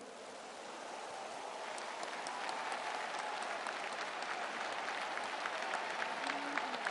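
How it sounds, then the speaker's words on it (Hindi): A large crowd at the centenary celebration of Gaudiya Mission and Math breaks into loud applause, a dense, continuous roar of clapping that swells slightly and holds steady throughout. "हम जोरदार तालियों से उनका अभिनंदन करते हैं।"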